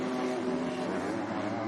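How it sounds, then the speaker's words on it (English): An MX2 motocross bike engine revs hard during a race at the 2022 MXGP of Germany, giving a loud, sustained, buzzing whine that holds high and steady. "Big panic revs there for Adamo as he came into land."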